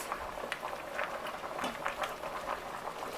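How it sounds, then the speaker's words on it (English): A pot of water with poke sallet boils at a full rolling boil, giving a faint, continuous bubbling and popping close up. "You want to make sure that it comes to a full rolling boil."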